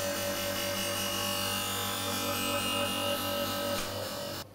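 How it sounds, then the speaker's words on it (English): Semi-automatic lens edger grinding an eyeglass lens down on its cutting wheel, a steady loud whirring rasp that runs continuously and stops abruptly at the end. "Cut the lenses down to size on the cutting wheel, which deals quickly with the excess material."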